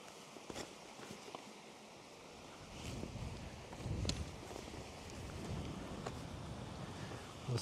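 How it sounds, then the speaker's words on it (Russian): Steady broadband rushing of an unfrozen river flowing past snow-covered rocks near Talnakh in winter, continuous and moderately loud with occasional crunchy footsteps and wind buffeting the microphone. "Я слышу шум воды."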